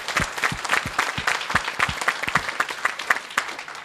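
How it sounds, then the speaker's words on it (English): An audience at a Hadoop and big data tech meetup breaks into applause: sharp, distinct claps in a lively, uneven rhythm, loud and close, with no speech over them. "please join me in giving a round of applause to NetApp."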